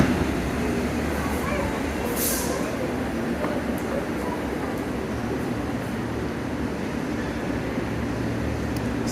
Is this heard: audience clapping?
no